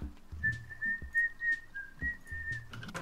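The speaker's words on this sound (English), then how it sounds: "whistle me a song, dude" A person whistles a steady, tuneful melody of sustained and sliding notes for about three seconds, close and clear, over faint background thumps.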